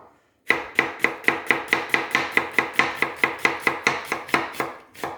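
A knife chops onion on a cutting board in rapid, evenly spaced strikes, about eighteen crisp close knocks in a steady rhythm, with no voices.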